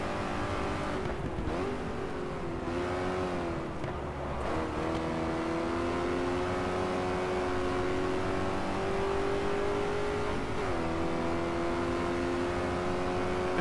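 A Ford Mustang race car engine in the GT Legends game at Castle Combe drones loudly and continuously. The pitch climbs through the gears, with brief dips at the shifts near the start and a short lift later on.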